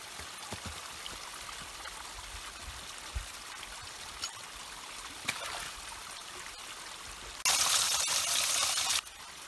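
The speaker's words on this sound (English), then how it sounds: "see is there still that beautiful creek that we found last time" A mountain creek flows and trickles through winter snow with a steady, close rushing wash, a few sharp knocks, and a louder hissing burst near the end.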